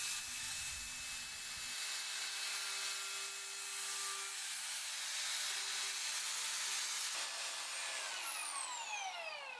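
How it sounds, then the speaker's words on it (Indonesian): Continuous abrasive rubbing of sandpaper against wooden corners, steady and close, with a faint mechanical whine running underneath. "Amplas sudutnya supaya rapi dan halus."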